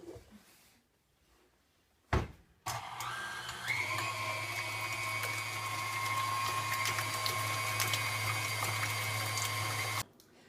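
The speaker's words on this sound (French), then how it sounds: "on va mélanger à puissance moyenne pendant environ 1 minute ou jusqu'à ce que le tout soit très bien mélangé" An electric mixer starts with a clunk, then whirs steadily at medium power while mixing batter for chocolate fondant cakes. The hum holds close and even for several seconds before cutting off abruptly.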